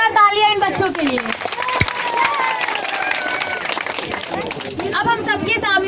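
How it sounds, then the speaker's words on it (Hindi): Applause from an audience for a group of children at an Independence Day celebration in India, sustained clapping and crowd noise throughout, with a voice talking over the start and end. "एक बार और जोरदार तालियां इन बच्चों के लिए।"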